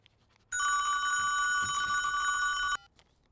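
A telephone rings with a bright, continuous electronic trill lasting about two seconds, loud and close against a quiet room, then cuts off abruptly.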